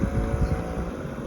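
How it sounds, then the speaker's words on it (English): An outboard motor fitted to the back of a canoe drones low and steady from a short distance, with some wind buffeting the microphone. "an outboard onto the back of the canoe"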